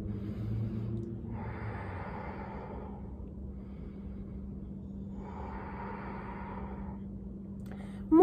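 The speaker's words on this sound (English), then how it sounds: "take a few deep inhales and exhales" Two slow, deep breaths during a yoga workout, each a long airy inhale and exhale, close and quiet over a faint low hum.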